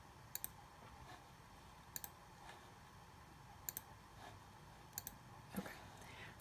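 Mouse buttons click several times in quick pairs while working in Silhouette design software for a Silhouette Portrait 2 cutting machine, crisp and close over a faint steady background hum.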